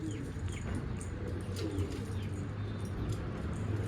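A pigeon coos repeatedly in low, soft bursts close by, with faint chirps and light rustling in the background.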